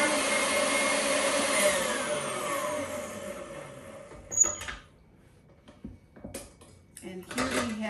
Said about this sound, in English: So I'll go ahead and mix it one little bit more.